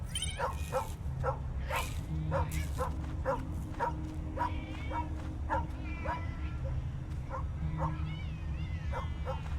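A dog barks and yips repeatedly in the Tales of the Neon Sea video game, sharp bursts spaced through the clip over a steady low game soundtrack.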